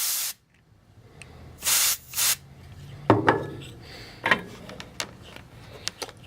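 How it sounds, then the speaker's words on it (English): Canned air duster blows debris out of a ZENY PRO 862D+ solder rework station in several short hissing bursts, two longer blasts and a few quick puffs, among light clicks and handling noises. "see if we can get this duster to blow it out of here"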